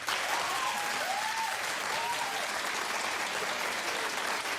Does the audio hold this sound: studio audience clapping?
yes